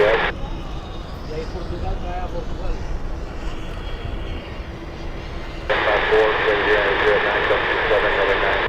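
An airliner touching down at Miami International Airport, a broad steady roar heard from a distance that swells sharply louder partway through as engine noise rises, with a voice talking over it.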